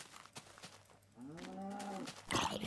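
A cow mooing in Minecraft, one drawn-out low lowing call up close, followed by a brief noisy burst.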